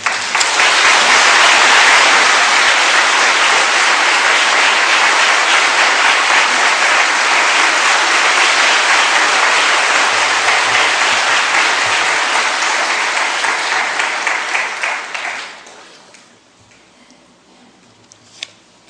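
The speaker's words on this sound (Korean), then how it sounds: "나오실 때 우리가 박수로 좀 환영하겠습니다" An audience breaks into sustained, dense applause to welcome a speaker. The clapping stays loud for about fifteen seconds, then thins and fades into a quiet room.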